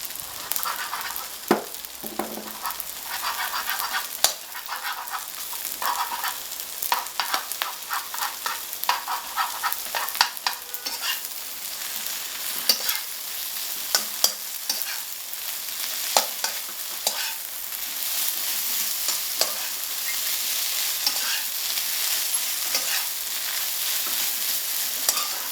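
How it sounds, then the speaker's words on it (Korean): Rice stir-fries with sesame oil in a pan: a constant bright sizzle runs under frequent sharp scrapes and taps of the utensil against the pan, with no talk. "살짝 익을 때까지 기다렸다가 참기름을 넣고 같이 볶아준다"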